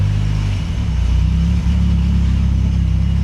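A turbocharged Nissan 240SX engine idles after sitting unused for years, a steady low rumble with a slight rough, chattery unevenness and brief dips, close and loud with no talking.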